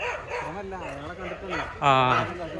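Several dog barks and yips from aggressive dogs in Fort Kochi, Kerala, ring out close by, overlapping with people talking, one louder bark standing out near the end.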